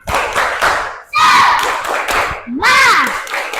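A class of children at a primary school claps a rhythmic spirit chant, with sharp hand claps in quick patterned bursts, loud and close, mixed with children's voices calling out along with the beat.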